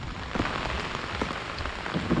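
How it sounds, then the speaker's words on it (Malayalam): Heavy rain pours steadily at a Kerala village fishing spot, a dense even hiss of drops drumming on surfaces with no voices. "നല്ല കത്ത മഴ പെയ്തു"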